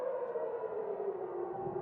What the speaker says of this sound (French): Des sirènes d'alerte aérienne ont également retenti de manière continue dans plusieurs villes israéliennes